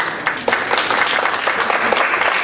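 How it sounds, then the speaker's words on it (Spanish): An audience at a Ministry of Culture event on Peruvian myths and legends breaks into steady, sustained applause, many hands clapping together at a moderate level without a pause. "Les pido un fuerte aplauso."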